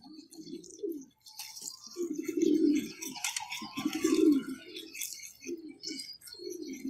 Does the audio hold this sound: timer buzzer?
no